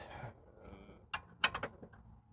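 A small wrench works against the rear upper control arm bolt on a Ford Flex, giving a few faint metallic clicks and creaks, then a quick cluster of sharper ratcheting taps, quiet and close.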